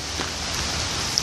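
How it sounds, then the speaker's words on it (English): Steady rain falling outdoors at night, a continuous soft broadband hiss of drops on surfaces, even in level with no voices. "It decided to rain 4 times during one of my night chats"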